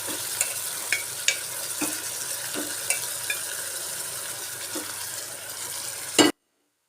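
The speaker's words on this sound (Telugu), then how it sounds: "కంద కొంచెం 2 మినిట్స్ దీంట్లో మగ్గనిద్దామండి." Yam pieces sizzle and fry in a pan for curry while being stirred, with steady close frying hiss and repeated light scrapes and taps of a spoon against the pan, ending abruptly.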